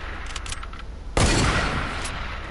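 Gunfire in the military shooter video game Squad: a loud, sharp burst of shots cuts in sharply about halfway through and rings out over faint background noise.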